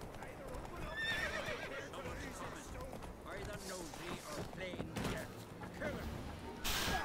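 In The Witcher 3, horses whinny and neigh loudly among clattering hoofbeats, with several sharp calls spread across the stretch and a voice speaking briefly.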